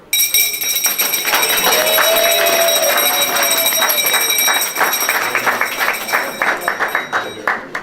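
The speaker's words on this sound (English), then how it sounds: "the traditional ringing of the bell for the opening of the stock exchange, symbolizing a prosperous new year for Jamaica." Opening bell for the first trading day at the Jamaica Stock Exchange rings in a rapid, continuous metallic clangor, loud and sustained, then trails into separate strikes as it winds down.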